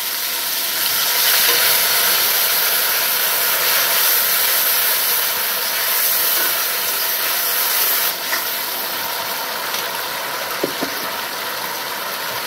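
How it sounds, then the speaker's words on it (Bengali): Loud continuous steamy hiss, close and steady throughout, as a little water hits a hot pan of tomato paste and masala, with a faint clink late on. "সামান্য একটু জল অ্যাড করে দিচ্ছি।"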